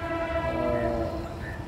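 A train passing close to a railway track near a home in Mumbai, with a steady loud rumble and a sustained horn-like tone throughout, no talk.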